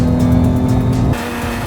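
A Porsche 911 GT3 on a race track, its engine roaring loud and close as it accelerates hard, the tone shifting abruptly partway through.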